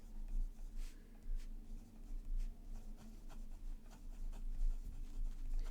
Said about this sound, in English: this nib is very smooth and comfortable to write with